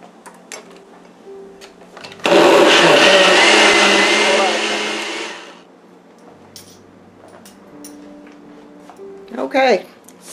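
Blender whirring through coconut milk for mango sorbet, a loud burst of about three seconds that winds down, with quiet ticking and a voice talking before and after.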